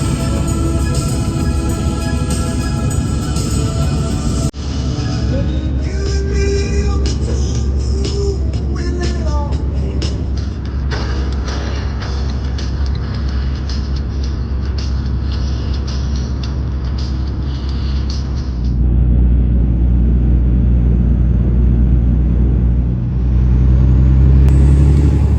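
Steady car engine rumble from inside a moving vehicle, a continuous low drone with road noise that shifts slightly near the end.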